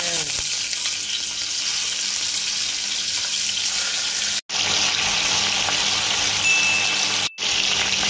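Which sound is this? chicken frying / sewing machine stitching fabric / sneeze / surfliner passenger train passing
chicken frying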